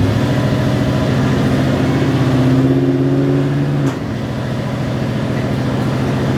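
A V8-powered DIVCO Lightning with a new Edelbrock intake, driving with its exhaust cutouts closed, gives a steady, close low engine drone that swells slightly and then drops off abruptly partway through.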